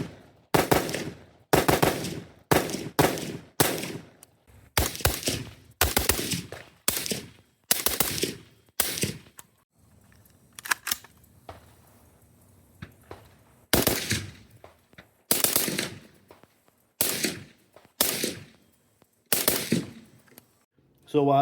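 A Centurion Arms 12.5-inch rifle fires at an outdoor range in rapid bursts and strings of sharp, loud reports, with a quiet lull partway through before the shooting starts again in evenly spaced groups.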